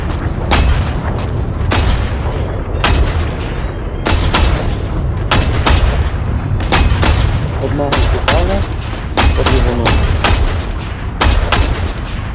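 Loud, dense combat from the online shooter Sand: rapid bursts of gunfire and deep explosions repeat throughout, with players talking intermittently beneath the constant roar.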